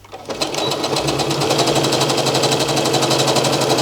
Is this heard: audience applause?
no